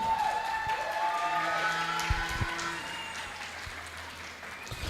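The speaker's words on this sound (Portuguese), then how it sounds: "Dá mais um aplauso aí." A church congregation at a cell-group service claps in sustained, moderately loud applause that slowly thins out, with faint background tones under it.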